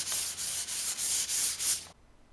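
Fine-grit sandpaper at 320 and 400 grit rubs over primer on a model rocket in close, steady strokes, about six rhythmic passes, then stops into near silence.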